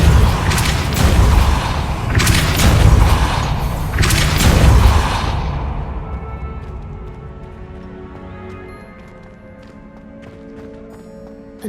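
A Depulso force spell cast in Hogwarts Legacy, heard as three loud, deep booming bursts in quick succession that give way to a long, fading rumble and faint scattered clatter.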